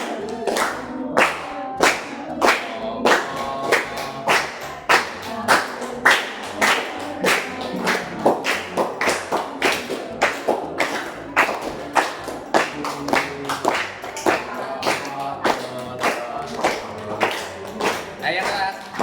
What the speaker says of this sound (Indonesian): Ayo siap, nyanyi lagu balonku yang lainnya menyambut dengan tepuk tangan.